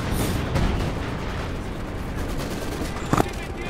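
Gunfire from grenadiers with an MG42 machine gun in a D-Day battle video game, a dense continuous rattle of shots and distant explosions in a busy war soundscape, with a sharper burst near the end.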